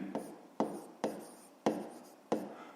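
A pen writes on paper in five short, distinct strokes, each a crisp scratch that trails off, spaced roughly half a second apart and heard up close in a quiet room.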